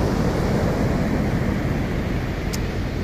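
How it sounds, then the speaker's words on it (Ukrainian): Sea waves wash steadily onto a shore on a calm day, a continuous broadband rush with wind buffeting the microphone, close and fairly loud, no voices. "сьогодні хвилі поспокійніші будуть"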